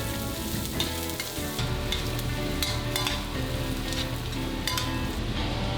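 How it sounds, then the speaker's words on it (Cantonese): Onion stir-frying in a wok for Xiamen fried vermicelli, a steady, close, loud sizzle with occasional clinks of the utensil, running alone without any talk. "我哋而家炒香個洋葱"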